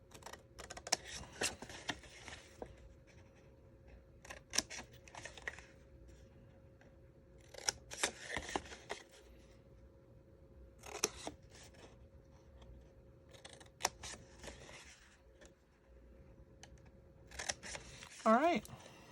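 Scissors snip paper in short bursts while building a pine tree treat box for Reese's Nutcracker holiday candy, the cuts spaced across the stretch with a soft steady hum beneath and talk in between.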